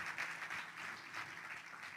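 Steady audience applause during a live philosophy monologue, a soft, distant wash of many hands clapping at an even level for a couple of seconds, with no talking over it.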